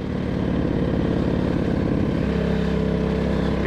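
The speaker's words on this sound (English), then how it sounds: "I do want to hear that engine, hear that exhaust" An Aprilia RXV 550 motorcycle engine drones loudly with a buzzy exhaust note while riding a damp trail, steady and close, dropping to a lower pitch partway through.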